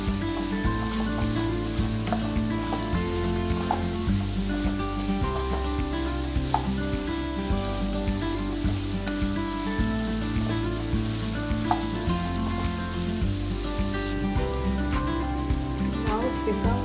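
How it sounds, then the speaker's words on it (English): Curry leaves sizzle steadily in hot oil in a pan, stirred now and then, with soft scraping and crackle running continuously at close range while background music plays underneath. "Now add some curry leaves. And then cook this until it's light brown."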